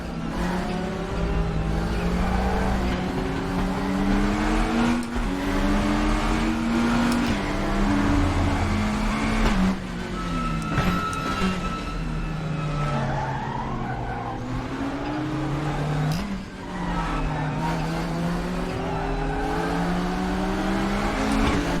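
McLaren 720S GT3 race car in RaceRoom at Lausitzring, engine note rising and falling steadily through gear changes with tyre squeal, loud and continuous throughout, no talk.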